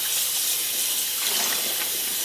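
Cold tap water runs steadily into a basin where yarn is soaking. The gush is loud, continuous and close, with a hiss under it, and nobody speaks.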